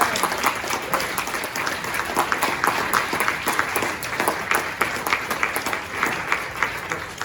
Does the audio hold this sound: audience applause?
yes